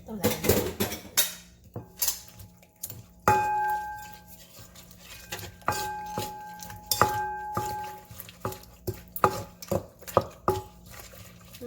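Papaya crab salad with lime being mixed gently in a bowl, close clinks and taps of a utensil against the dish in scattered strikes, with a few bright ringing knocks and faint background voice at the start.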